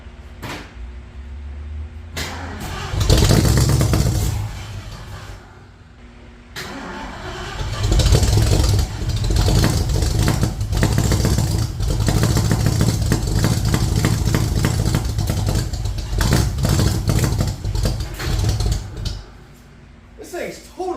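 A 1972 Ford Mustang that has sat for years cranks and fires up, then runs roughly at idle with surging revs, loud and close, while someone talks over the engine.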